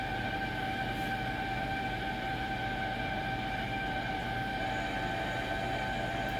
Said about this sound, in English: My son is pressure washing a carpet outside. So that's the sound that you're hearing.